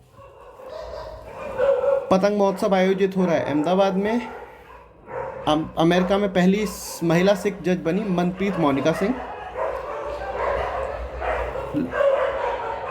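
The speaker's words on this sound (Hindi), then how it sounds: "गैंग वॉर हुआ है कुत्तों में लगता है।" Several dogs bark, yip and snarl as they fight in the background, loud and repeated, while someone talks steadily over them in Hindi.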